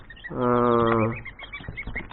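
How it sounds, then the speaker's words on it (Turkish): A single drawn-out honking call from a young goose, loud and close, followed by softer scattered peeps and rustling. "Kazlar"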